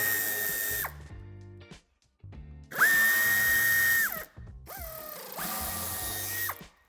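Power driver removing Torx T25 screws from the underbody of a 2020 Cupra Formentor, three bursts of high steady whirring that end in sharp pitch drops, with quieter ratcheting clicks between them.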